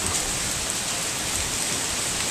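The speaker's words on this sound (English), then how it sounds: "It's just really rainy, a little windy." Steady rain hisses down outdoors, an even wash of falling drops with no voices or other sounds.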